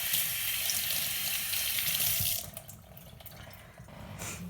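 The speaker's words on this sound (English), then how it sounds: "So let me just rinse my hands off." Hands being rinsed under a kitchen tap after supreming citrus: a steady rush of running water for about two seconds, then lighter splashing and dripping.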